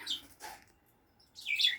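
Bourke's parakeet chicks give a few faint, high chirps in two short bursts separated by a quiet pause.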